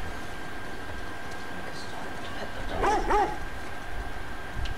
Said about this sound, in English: It's a dog. There's a doggo!